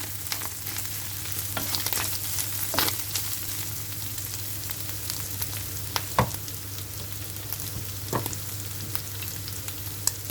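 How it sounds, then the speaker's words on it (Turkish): Minced meat and eggs sizzle steadily with butter in a frying pan, a loud continuous crackle broken by a few sharp scrapes of stirring, with no talking. "Biraz da lezzet versin diye şöyle tereyağıyla biraz daha karıştıralım."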